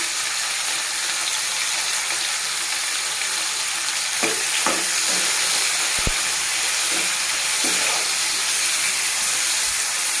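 Tomatoes sizzle steadily in hot oil in a pan while being cooked with salt for a raw tomato chutney, a close, continuous frying hiss broken by a few soft stirring knocks.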